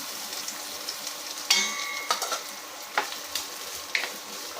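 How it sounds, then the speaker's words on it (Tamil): Finely chopped onions sautéing in a pan for a ridge gourd gravy, a constant close sizzle broken by several sharp scrapes and clinks of a spoon stirring against the pan, no voices. "வெங்காயம் நல்லா வதங்கட்டும்"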